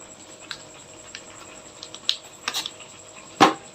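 Sparse, sharp pops and crackles spring up at irregular moments over a low steady hiss, like mustard seeds spitting in hot oil, with one louder burst near the end.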